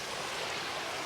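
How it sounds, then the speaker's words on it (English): Sea waves wash onto a rocky beach beneath cliffs in a steady, dense broadband hiss, close and fairly loud, with no talking. "the sea comes all the way in up to the cliffs"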